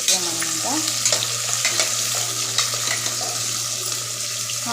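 Thinly sliced onions fry in oil in a pan while being stirred, a constant loud sizzle with intermittent scraping of the utensil, heard up close without talk.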